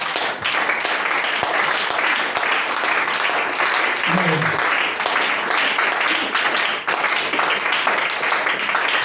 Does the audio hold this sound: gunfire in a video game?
no